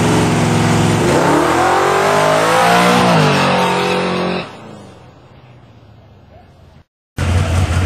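Street race cars launching side by side in a $400 grudge race between a Slow89GT and a Tuba Time car, engines roaring loudly with rising revs for about four seconds, then fading into the distance before a sharp cut.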